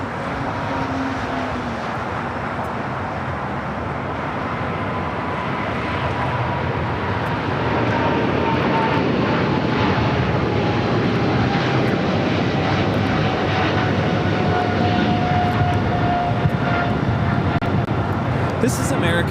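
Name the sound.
American Airlines Boeing 777-300ER taking off to London Heathrow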